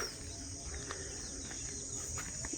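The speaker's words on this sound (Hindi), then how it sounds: "परिंदों की खूबसूरत आवाज़ें," Birds chirp outdoors in open nature, brief scattered calls spread across the scene, faint and fairly distant over a steady background hiss.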